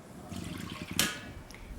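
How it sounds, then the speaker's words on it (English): Milk and water pour briefly into a pan for choux pastry, a short splashing gush over a soft continuous trickle and background noise. "we're going to add the milk and water to the pan"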